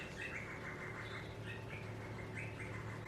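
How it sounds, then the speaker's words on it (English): Several magpies chirp repeatedly just outside a window over steady background hum, fairly close, in short bursts spaced through the clip. "I think there might be some magpies or something."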